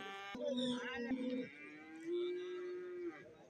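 Young cattle calves at a buffalo market give two drawn-out moos, the first wavering and the second long and steady, close and fairly loud against a quiet background.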